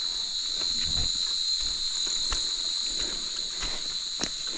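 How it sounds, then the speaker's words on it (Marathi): Steady high-pitched cricket trilling fills the rainy night air continuously in Sangameshwar, Konkan, with faint scattered low knocks and rustles underneath. "रातकिड्यांचा आवाज येतो आहे"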